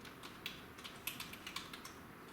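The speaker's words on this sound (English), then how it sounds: "Down here in the search bar, we're going to type in EMG settings." Close, quiet typing on a computer keyboard: a quick irregular run of light key clicks over about two seconds, with no voices.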